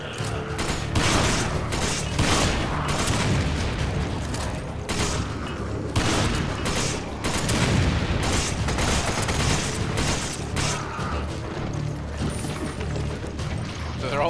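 Repeated heavy blasts and bursts of combat noise from grenades going off during a Resident Evil 5 firefight, loud and dense across the whole stretch, with thumping booms layered over continuous gunfire-like clatter.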